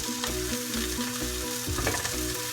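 Baked beans sizzling and simmering in a pan on the stove, a continuous close crackle with scraping spatula stirs and a low recurring hum underneath.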